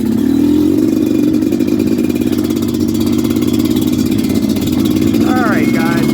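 A Suzuki LT250R quad's engine drones steadily on a trail ride on a brisk fall afternoon in New Jersey, loud and close with a rough, buzzing tone under wind, while a voice talks over it near the end.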